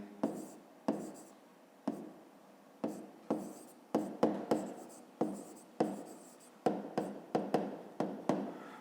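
A pen scratches across paper in quick, repeated strokes, each stroke sharp at the start and then fading, loud and close with no talk.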